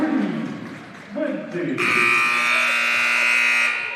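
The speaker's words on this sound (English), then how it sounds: "that buzzer signals the end of the third quarter" A loud, sustained electronic buzzer ending the third quarter of a basketball game blares for about two seconds, cutting in over an excited announcer's voice and crowd noise.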